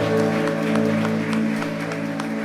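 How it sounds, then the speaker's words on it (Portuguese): A church congregation applauds, a steady wash of clapping lasting a couple of seconds over a sustained organ-like chord, with no voices. "Você pode dar um forte aplauso ao Senhor"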